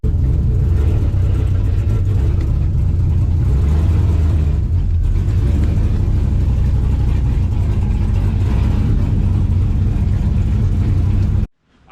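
An LS3-swapped Chevrolet S10 pickup drives with a loud, steady low engine rumble and mild revving, close and continuous before cutting off abruptly at the end.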